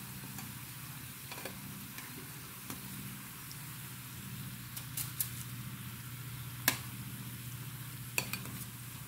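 Bananas frying with sugar in a pan, a steady low sizzle with occasional light stirring clicks and scrapes, close and moderately quiet, with no talk.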